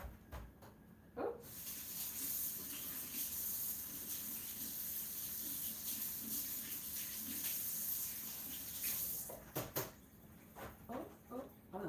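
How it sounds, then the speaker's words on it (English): Tap water runs steadily into a sink for hand washing in a home kitchen during breakfast prep, a continuous mid-level wash with brief clatter at the start and end. "Let me wash my hands."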